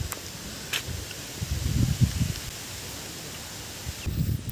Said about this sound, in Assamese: ধুনীয়া বতাহ দিছে